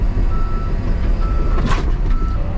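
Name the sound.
machine reversing with backup beeps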